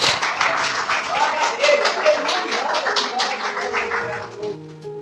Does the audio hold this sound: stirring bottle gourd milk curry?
no